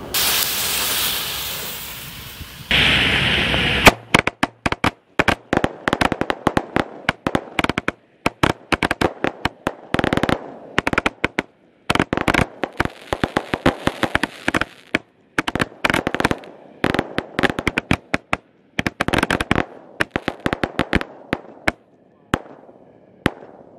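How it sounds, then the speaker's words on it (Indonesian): Twenty roman candles bundled and lit together on a festive holiday night, opening with a loud fuse hiss before a dense, rapid barrage of sharp popping bursts that keeps going, uneven and close, for about twenty seconds. "ini ada 20 roman candle, kita jadikan satu, kita nyalakan ya"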